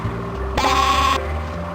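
A sheep in the Spy Fox 2 video game gives one bright, loud bleat in the middle of the clip, set over quiet game background sound.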